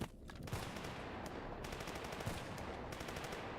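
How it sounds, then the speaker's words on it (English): Video-game gunfire aimed at the player sounds as sustained machine-gun bursts, rapid rattling shots over a constant noisy background, fairly faint and at middle distance. "Oh, they're shooting at me."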